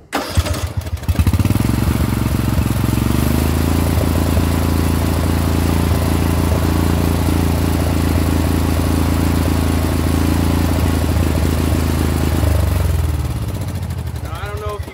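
A Briggs and Stratton riding mower engine runs rough close up, with a loud, uneven chug and sputter and occasional pops from backfiring, steady for about twelve seconds before dropping off.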